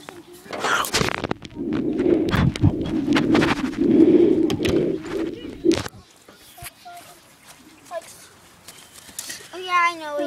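A trapped bird flutters and coos close by, with scraping and thumping movement sounds, and people talk over it. A few soft, faint calls follow in a quieter stretch.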